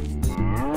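A cartoon cow moos in the point-and-click adventure game Ben There, Dan That!, one long, loud, close bellow that swells and holds for under a second.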